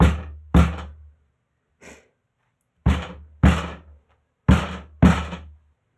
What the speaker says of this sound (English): bang the chalk marks through